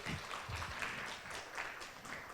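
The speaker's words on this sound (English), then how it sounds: "give her a big round of applause" Applause for a speaker at a university three-minute thesis contest: a steady patter of clapping from an audience, moderately loud and sustained, with a faint voice underneath.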